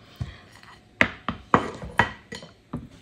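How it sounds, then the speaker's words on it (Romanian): Knife slicing potatoes into medium rounds on a cutting board: six or seven crisp, evenly spaced chops, close and clear with quiet gaps between strokes. "Cartofii îi tăiem așa. Felii, nici groase, nici subțiri, cam iată așa."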